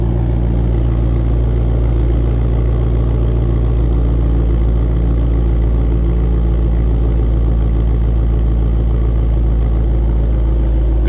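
A 2022 Ford Mustang Shelby GT500 coupe idles steadily, its engine giving a deep, even rumble that stays constant and loud throughout, with no voices over it.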